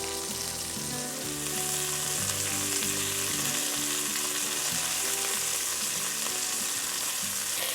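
Beef pieces for Jachtschotel, a Dutch casserole, sizzle steadily as they brown in a frying pan, with a continuous loud crackle and occasional soft clinks of turning, no voices.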